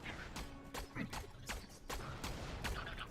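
SMG fired in a video game: a quick series of about eight sharp, separate shots in an uneven, rapid rhythm, fairly close, with faint background noise between the cracks.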